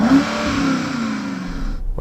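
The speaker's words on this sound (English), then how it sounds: "can you rev up your German V8?" A big German V8 engine revs hard against a soft limiter and holds a high, rising roar before cutting off abruptly at the end.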